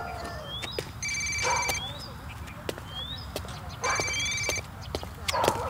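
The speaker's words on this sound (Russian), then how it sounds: "Телефон у тебя, кажись, Иваныч." An old-style telephone bell rings in short repeated bursts, two rings a few seconds apart, in a room with birdsong and rustling around it, moderately loud and close.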